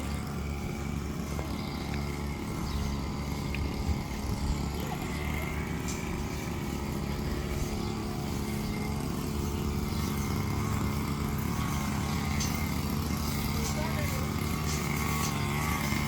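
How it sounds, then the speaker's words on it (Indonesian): A motorized lawn mower drones steadily nearby, a constant buzzing engine that runs unbroken for the whole stretch, with occasional speech beneath it. "ada mesin pemotong rumput"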